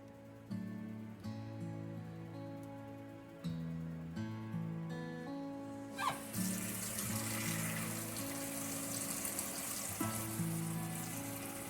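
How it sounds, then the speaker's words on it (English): Tap water runs steadily while fresh produce is gently washed in a kitchen sink, a soft continuous splash that swells louder midway, with quiet background music under it and no talking. "So really what I'm going to do is just gently wash everything."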